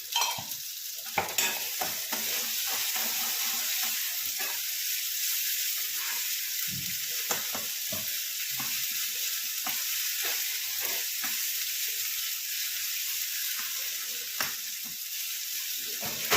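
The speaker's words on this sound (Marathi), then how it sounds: "छान परतवून घ्यायचा. अगदी तेल सुटू द्यायचं त्या मसाल्याचं सगळीकडनं, तोपर्यंत परतवून घ्यायचा." Ginger, garlic and coconut paste sautéing in oil for a potato curry, a continuous bright sizzle with repeated stirring scrapes and taps of the spoon against the pan, close and steady.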